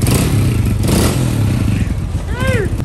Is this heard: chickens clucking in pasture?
no